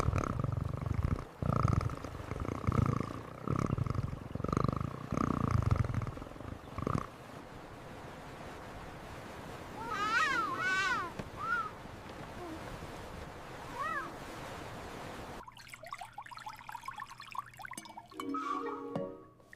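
Cats on a yacht trip: low rumbling purrs in the first seconds, then a few rising meows, with a brief clattering noise near the end.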